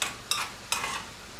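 Chopped onion frying in oil in a pan, stirred in short bursts: three scraping, sizzling sweeps at even intervals over a steady soft sizzle, close and fairly quiet.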